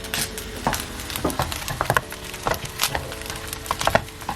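Egg and shrimp fried rice, Din Tai Fung style, is stir-fried with chicken stock. A spatula scrapes and clacks in an uneven rhythm over a steady close sizzle, with no voices.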